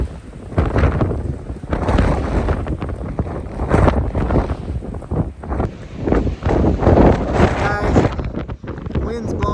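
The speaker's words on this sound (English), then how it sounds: "wind's blowing like 40, 50 miles an hour" Strong wind gusting at 40 to 50 miles an hour across an open desert basin, battering the microphone with loud, roaring buffets that rise and fall continuously, close and dominant throughout.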